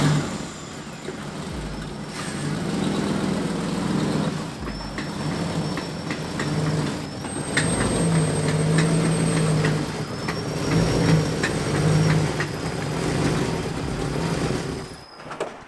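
A V8-swapped car running a standalone ECU rolls out of a workshop, its engine rumbling low and steady with a few revs rising and falling, plus faint high whines and clunks nearby.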